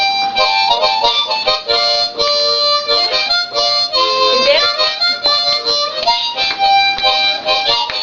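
A grandpa plays a harmonica up close, producing bright, sustained reedy notes and chords in a steady, rhythmic run with no pauses.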